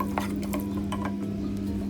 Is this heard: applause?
no